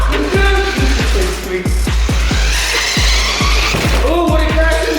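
A Polaris RZR side-by-side fitted with an Evo exhaust drives hard and skids, its engine note rising and falling in repeated loud revs with tire skid and squeal close by, and people shouting over it.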